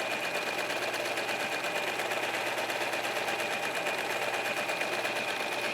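A serger sews a sweater seam from neckline to arm in one continuous run of rapid, even stitching, close and moderately quiet throughout.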